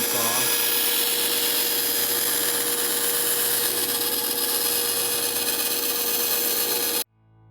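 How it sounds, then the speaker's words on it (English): A bandsaw cuts through PVC pipe for a homemade crossbow, making a loud, steady grinding whine that runs for about seven seconds before stopping abruptly. "Cut the rest out with the bandsaw."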